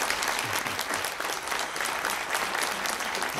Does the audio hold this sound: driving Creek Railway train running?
no